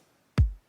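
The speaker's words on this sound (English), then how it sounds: "Kick layer number 1" A single layered kick drum sample hits once alone, a sharp attack dropping into a deep low boom that decays within a quarter second.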